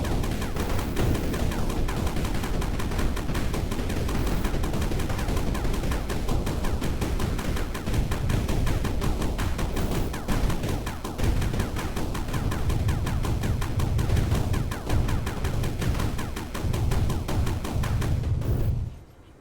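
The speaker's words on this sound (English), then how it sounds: "Actually, let's shoot everything in the area." Dense, continuous gunfire from a Steam Next Fest game demo, sustained loud bursts of shooting with booms and crashes filling the whole stretch before cutting off abruptly at the end.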